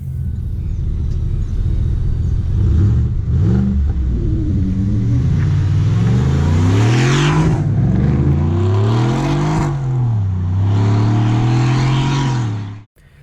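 A 650 hp Roush Ford F-150 pickup with a deep rumbling engine that revs and accelerates, rising and falling through gear changes, loud and close throughout, with no speech.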